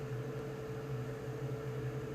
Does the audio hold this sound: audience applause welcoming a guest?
no